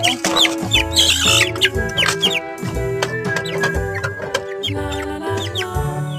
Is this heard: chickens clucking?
yes